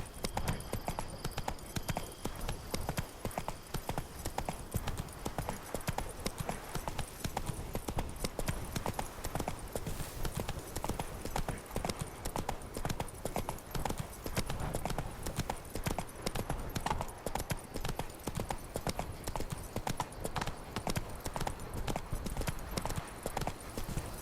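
A horse's hooves clip-clop at a steady trotting rhythm in The Witcher 3: Wild Hunt, a continuous close run of hoof beats over ambient game sound, with no talking.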